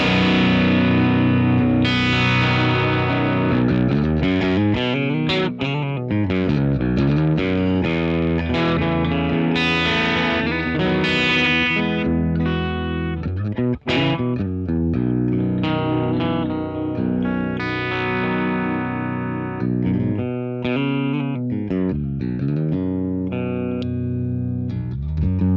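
A Karl Longbottom baritone electric guitar in a cleanish tone runs through a Victory Copper into a Boss Waza tube amp expander, playing continuous ringing chords and riffs that stay loud and sustained, with no talking.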